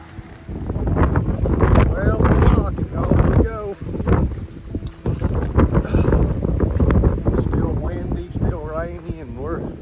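Strong wind with rain buffets the microphone in a steady roar on the Appalachian Trail near Damascus, Virginia, with a person talking over it throughout.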